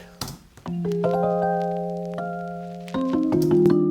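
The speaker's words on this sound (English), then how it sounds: "the noise turned on, which is like the static vinyl effect" Scattered vinyl crackle clicks and pops over sustained keyboard chords that shift a few times, no voices.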